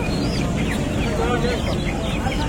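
Chickens, both native and hybrid, cluck and chatter amid a noisy market crowd, their short calls rising over a steady background din.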